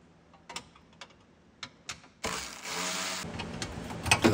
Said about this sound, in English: I'm gonna take this latch off to make it a lot easier to get the plate off of here.